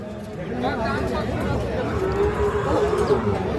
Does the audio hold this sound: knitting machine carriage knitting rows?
no